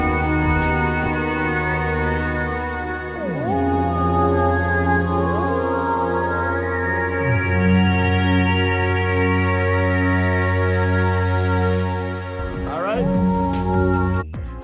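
Oberheim TEO-5 synthesizer plays sustained chords and low held notes with sliding pitch glides, a rich continuous tone alone without talk.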